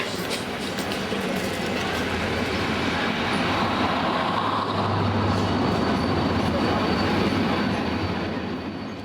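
An overnight sleeper train from Cairo to Luxor rumbles steadily from inside the carriage, with continuous rolling wheel noise, faint clatter and a brief low hum.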